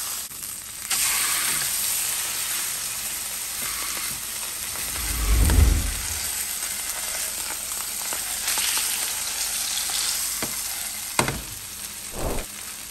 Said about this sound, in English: I'm just gonna go ahead and just flip my salmon over.